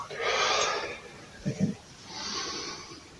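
A person exhales audibly during a body-centre exercise routine, with a long breathy outbreath, a brief snort-like puff, then another drawn-out exhale, close and fairly soft.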